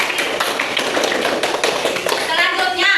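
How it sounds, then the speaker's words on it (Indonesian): Classroom children clap their hands together in a quick, uneven burst of many close taps, with young voices chattering faintly over the clapping throughout. "Oke, tepuk tangan."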